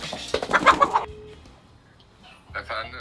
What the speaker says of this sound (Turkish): tavukların sesini duyacak